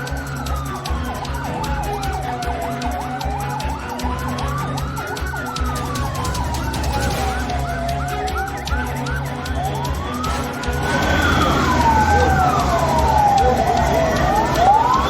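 Emergency sirens wail on a road in Wayanad, Kerala, as ambulances carry landslide victims, their rising and falling tones sweeping steadily and growing louder and layered near the end, with a low road rumble beneath and voices faintly present.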